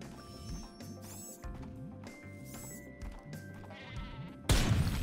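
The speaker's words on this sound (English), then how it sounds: "Oh shoot, he's got a sheep." In the Worms video game, the sheep weapon bleats in a series of short cartoonish calls over a steady game soundtrack, followed by a louder burst at the end.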